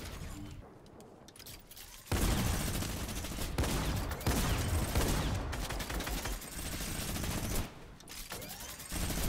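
Rapid gunfire in a battle royale video game during a competitive Duo Cash Cup match, with loud sustained bursts of shots cutting in and out over several seconds.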